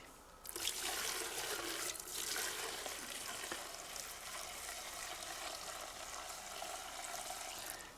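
Old gasoline pours through a funnel fitted with a filter, a faint, steady liquid trickle that runs continuously after a brief quiet start.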